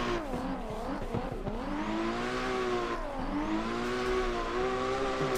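A drift car's engine revs hard after a shift into fourth gear on a practice circuit, a steady rising and wavering mechanical drone with a brief dip partway, loud and near.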